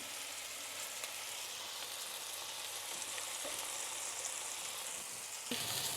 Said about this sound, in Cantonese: 我哋將啲豬扒放入去， 中大火，我哋每邊煎佢2分鐘。